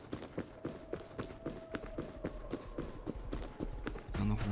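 Horse hooves gallop in a video game during a raid on a neighboring base, a fast, steady run of near, even clip-clop beats that continues throughout and grows a little louder toward the end.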